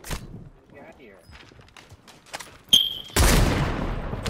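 Gunfire from an SMG and shotgun in the video game Call of Duty Warzone on Rebirth Island, with scattered footsteps and light shots followed by a loud burst of heavy, sustained firing near the end.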